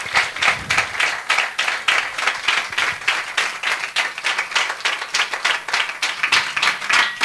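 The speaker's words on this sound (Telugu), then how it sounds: "చప్పట్లతో దేవుని మహిమపరుద్దాం" A church congregation at a fasting prayer gathering applauds steadily, a dense rhythmic patter of many hands, fairly loud and sustained with no talk over it.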